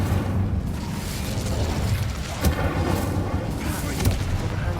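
The Incendio fire spell cast in the video game Hogwarts Legacy makes a dense, continuous roaring rumble with a few soft booms that stays loud throughout.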